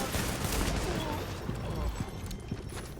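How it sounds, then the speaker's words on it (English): Pistol shots in a survival shooter game, a quick series of sharp reports rising out of a loud, noisy battle backdrop, closely spaced and fairly near over about three seconds. "This is why I hate this stupid pistol."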